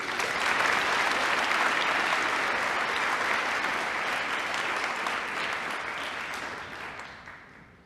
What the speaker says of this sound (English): And one more round of applause for him,